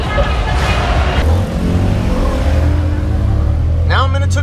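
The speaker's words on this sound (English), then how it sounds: "Now I'm in a tuk-tuk, and I gotta go back to Kamala" Small tuk-tuk engine droning and revving while driving along a Thai road, a loud close buzzing motor with shifting pitch, with voices briefly audible over it.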